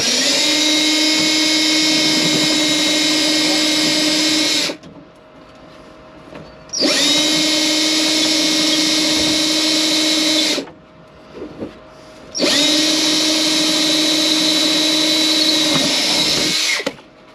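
A power drill whines steadily in three long bursts of about four to five seconds each while drilling through a floor, separated by short quiet gaps, loud and close.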